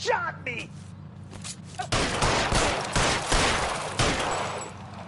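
Gunfire during a shootout in L.A. Noire, a quick volley of sharp shots and heavy impacts that builds into loud, overlapping bursts, with shouted voices early on.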